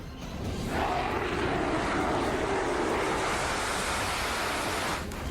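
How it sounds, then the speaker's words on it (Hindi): A fighter jet passes overhead during a Russian attack on Kyiv, Ukraine, on 31 December: a loud, steady, broad roar that swells in and holds for several seconds before cutting off. "फाइटर जेट की धमक"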